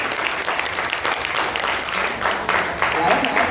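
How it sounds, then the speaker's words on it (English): Audience applause at a lecture demonstration, dense continuous clapping from a crowd filling the whole short stretch. "Give one more round of applause for this wonderful"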